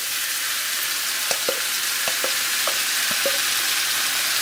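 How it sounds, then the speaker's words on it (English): Chicken and vegetables sizzle in a hot pan during a stir fry, a loud steady crackling hiss with a few faint clinks of a utensil stirring. "we're just going to stir fry everything and let it cook"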